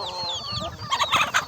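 Desi hens on a farm give short, close clucks and squawks in quick bursts, several birds calling over each other in a brief moment.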